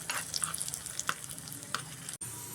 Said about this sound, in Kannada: ನಾನು ದ್ರಾಕ್ಷಿ ಹಾಕ್ಕೊಳ್ತಾ ಇದ್ದೀನಿ. ಅದನ್ನು ಸಹ ಹಾಕ್ಕೊಂಡು ಫ್ರೈ ಮಾಡ್ಕೊಳ್ತಾ ಇದ್ದೀನಿ.